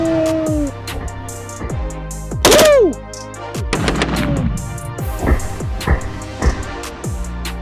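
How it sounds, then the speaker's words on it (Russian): Sharp shots from a CZ BREN 2 rifle fired in bursts of three crack out in short clusters at a paper body armour target, interspersed with thuds and ringing impacts, loud and close with echoing tails. "Это была стрельба по 3 штуки."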